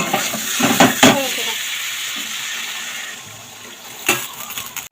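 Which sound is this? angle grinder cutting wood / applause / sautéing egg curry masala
sautéing egg curry masala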